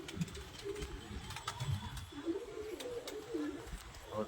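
Pigeons coo in soft repeated rolling calls at moderate distance, with muffled voices and outdoor background noise.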